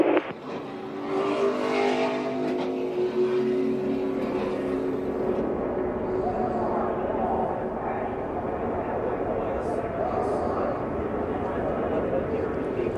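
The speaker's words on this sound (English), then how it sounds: "And now inside the low Chevy of Jimmie Johnson" NASCAR Chevy race car at the 2013 Sprint Unlimited, its engine roaring loudly and continuously at speed in an onboard view, with commentators talking over it.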